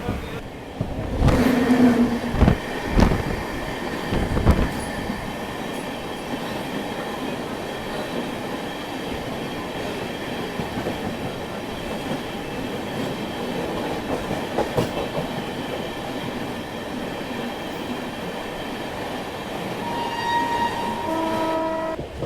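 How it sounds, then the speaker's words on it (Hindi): The Patna Rajdhani Express passes close by on adjacent tracks, with a horn blast near the start and then a long, loud, steady rush of wagons with rhythmic wheel clatter that continues throughout. "अभी पटना राजधानी जो है वो क्रॉस होने वाली है अपने से।"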